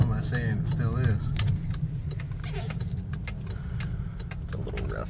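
A car engine rumbles steadily at low pitch as the vehicle pulls in over rough ground, with faint clicks and a jangle on top, while a voice talks briefly near the start.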